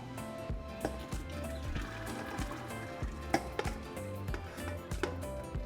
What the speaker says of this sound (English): so carefully just pour the sauce